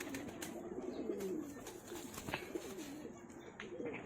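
Highflyer pigeons coo softly in a loft in Nagpur, with low, rolling calls repeating several times at close range over a faint background hiss.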